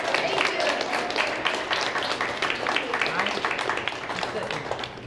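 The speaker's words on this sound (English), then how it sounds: "I want you to give a real round of applause to your parents and say thank you" Fifth-grade students at a school honor society ceremony applauding their parents, a broad wash of clapping from a large group in a hall, steady and moderately loud, with some voices mixed in.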